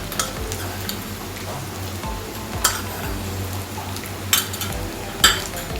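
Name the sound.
sesame seeds frying with chicken in a pan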